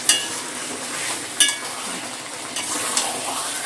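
Mutton slowly sautéed with ginger, onion and garlic in a pan for a thin potato mutton curry, giving a steady close sizzle with a few sharp utensil clinks against the pan.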